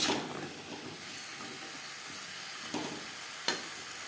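Potatoes and pointed gourd sizzle in oil in a pan for a vegetarian aloo potol curry, a steady bright frying hiss broken by a couple of sharp pops and spatters, with no talk.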